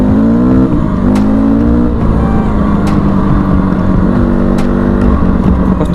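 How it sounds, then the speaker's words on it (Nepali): A motorcycle with a carburetor problem idles and revs unevenly, close and loud, its engine note wavering with irregular sharp pops from misfiring. "कस्तो मिसफायर हानेको रे यो बाइकले यार"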